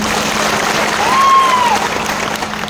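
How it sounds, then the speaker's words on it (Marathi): A crowd at a farmers' rally in Umrane claps loudly and continuously as dense, steady applause, with a voice audible faintly underneath. "याच्यासाठी टाळ्या वाजवा."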